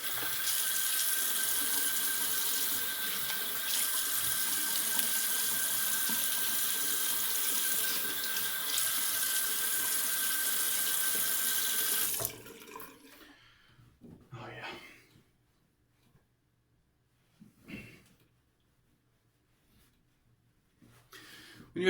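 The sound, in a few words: water from sink tap rinsing alum block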